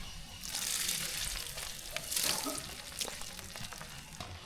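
Cashews and raisins fry in hot ghee, giving a steady close-up sizzle with a brief louder burst around the middle and a sharp clack at the very end, with no voices.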